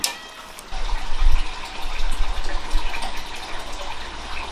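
A steady watery gurgle and hiss of a lidded clay pot of tofu and vegetables bubbling on the heat, close by, with a low rumble underneath and no talking.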